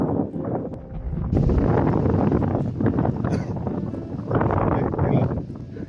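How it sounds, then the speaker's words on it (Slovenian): Strong wind blows outdoors among trees during a Vespa road trip through England. It makes a loud, steady rush with gusty buffeting on the microphone and rises and falls over several seconds. "Pa veter lepo piha."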